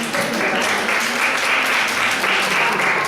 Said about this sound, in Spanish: un aplauso para la señorita a todos